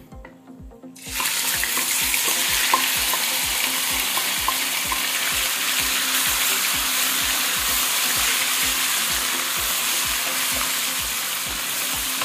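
Beef hits a hot pan and bursts into loud, close sizzling that holds steady and continuous for many seconds after a quiet start.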